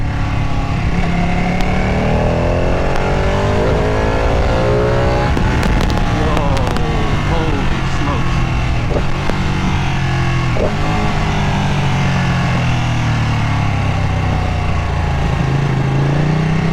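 Ducati 959 Panigale superbike engine revved hard with quick throttle blips, rising and falling sharply, loud and close with crackling bursts around the middle, continuous throughout.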